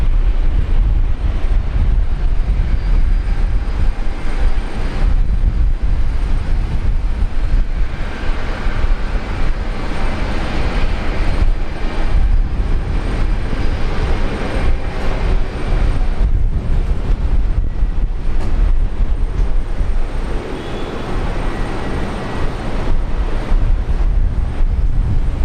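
Airliner engines roaring in a sustained, broad rumble at Brisbane International Airport during heavy rain, the wash of jet noise rising and fading gently over nearly half a minute with no voices.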